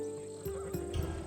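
A battle-bred warrior's horse in Assassin's Creed Odyssey whinnies briefly and quietly, with a faint clip-clop of hooves under a low steady tone.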